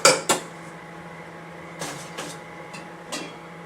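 Metal clanks of a lid being set onto a cooking pot in a home kitchen: two sharp knocks at the start, then a few softer taps and rattles, close by and with no talking.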